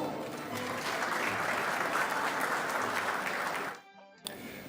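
An audience at a Moroccan embassy Throne Day celebration in Abidjan applauds the ambassador, steady dense clapping that cuts off abruptly near the end.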